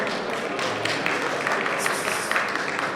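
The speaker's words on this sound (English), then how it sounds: "So I want to give a big applause to all this wonderful panel to welcome them all." An audience applauds to welcome a panel at an alumni convention, with steady, moderately loud clapping from many hands throughout.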